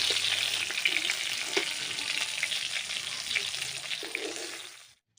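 Pieces of silver carp fish fry in oil with a loud, close, bubbling sizzle and occasional soft pops, then cut off abruptly at the end.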